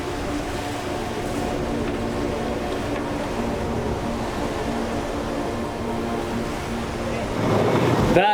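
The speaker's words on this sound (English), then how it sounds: "the howls of the wind and pounding of the waves was much more terrifying." Strong wind and heavy waves pound a 37ft Shannon sailboat crossing the open sea from Australia to New Zealand, a constant loud roar of surf and wind with a sharper splash near the end.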